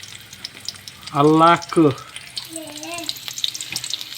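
Abuos, weaver ant eggs, fry in a pan with a faint, steady sizzle, briefly covered by a short burst of nearby talk before the crackle carries on alone.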